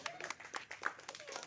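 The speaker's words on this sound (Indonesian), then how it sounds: "Tepuk tangan Bu." People, mostly women, clap their hands at a fire prevention outreach session in Central Lombok, a brief, faint patter of quick, uneven claps heard from a distance.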